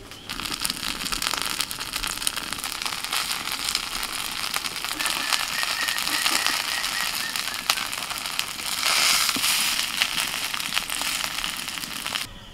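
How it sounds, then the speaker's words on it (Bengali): Flattened rice (chire) frying lightly in a pan, turned on both sides, gives a steady close crackling sizzle that runs without a break and swells briefly near the end. No one speaks. "এপিট ওপিট উল্টে এরকম হালকা করে ভেজে তুলে নেব।"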